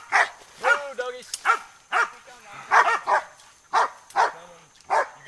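Hunting dogs bay and bark at a 320-pound wild boar caught outdoors, loud repeated howling barks in quick bursts, close by, with a few yips mixed in and no clear talk.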